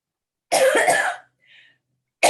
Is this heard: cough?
yes